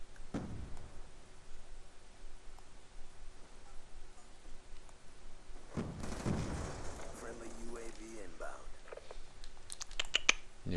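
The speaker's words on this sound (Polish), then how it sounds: "Wybuch." Explosions and gunfire in the video game Black Ops 2, a sharp blast burst midway followed by scattered crackling shots, with a player talking over the game audio.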